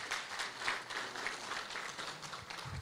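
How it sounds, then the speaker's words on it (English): Audience applause at a gathering at Freedom Park Heritage Site, a steady wash of many hands clapping throughout, moderately loud, with no talk over it. "Let's give her a round of applause."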